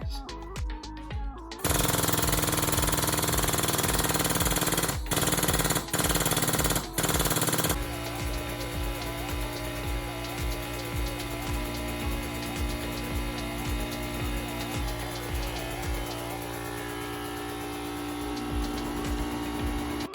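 Metal tube being bent to 60 degrees on a tube bender, a loud, continuous mechanical grinding and humming drive with a few sharp clacks early on, running steadily and close.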